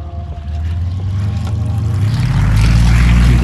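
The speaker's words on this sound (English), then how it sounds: "This is our Yak 18T in its first landing" A Yak 18T propeller aircraft comes in to land with power and flaps, its engine droning steadily and growing louder and closer over a few seconds, with no talk.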